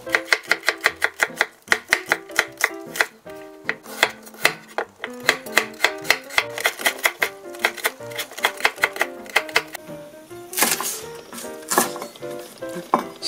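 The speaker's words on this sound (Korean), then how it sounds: "이거 다 안 넣고 조금만 채를 썰어서 넣을 거고요." Knife julienning carrot and slicing onion on a cutting board, a steady run of sharp, close chopping taps in quick rhythm, pausing briefly before a final burst of faster cuts.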